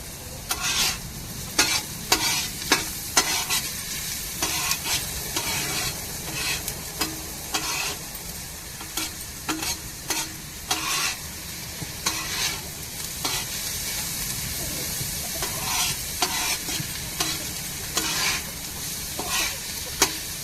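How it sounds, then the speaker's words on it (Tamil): Garlic and onion sizzle continuously in a hot pan while a spoon stirs and scrapes them. Repeated clinks and scraping sounds rise over the steady frying hiss throughout. "பூண்டையும் தக் வெங்காயத்தோடு சேர்த்து நல்லா வதக்கி விட்டுக்குருவோம்"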